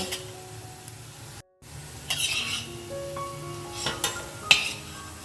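Fried bitter gourd being moved from a pan into a bowl: light scraping and clinks of a utensil against the cookware over a low sizzle, with a few sharper taps near the end and no talking.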